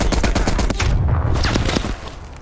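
Rapid automatic fire from an M60 machine gun in Call of Duty Cold War, a loud, dense stream of shots that carries on steadily before easing off near the end.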